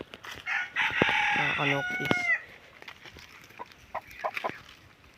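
A rooster crows loudly nearby with a long drawn call, followed by scattered softer fowl sounds and brief clucks in a quiet outdoor setting.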